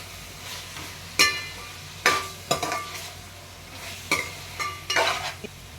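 Freshly picked okra sizzling in a pan, with a spoon scraping and stirring in several sharp bursts over a steady low fry, close and fairly quiet.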